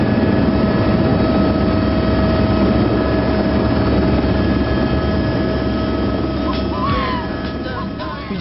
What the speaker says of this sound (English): helicopter with the doors open, not minding the risk.